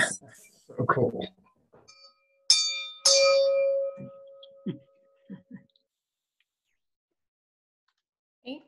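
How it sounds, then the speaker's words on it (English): Several handheld bells ring at a Sunday service, with participants joining in over a video call. Scattered strikes and clangs come and go, two sustained rings are brighter and longer, then faint knocks and a last ring follow after a gap. "let the bells that we share call us to our Sunday service"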